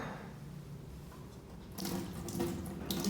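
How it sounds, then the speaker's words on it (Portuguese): Running tap water pours steadily over a glass laboratory pipette as it is rinsed under the faucet, a continuous splashing hiss that grows louder and busier partway through as the flow strikes the glass. "agora que eu vou terminar o enxágue"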